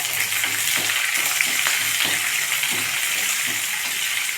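Onions and curry leaves fry in hot oil with a loud, continuous sizzle and faint stirring taps running through it, close up and without speech.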